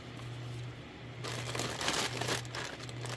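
Crinkly plastic packaging from an Etsy order is handled and pulled open, producing close, soft crackling and crumpling over a low steady hum, with no talking.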